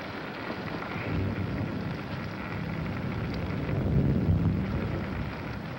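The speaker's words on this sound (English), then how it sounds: "It's raining." Rain falling outside at night, a steady, dense hiss of noise with no pauses that swells slightly toward the end.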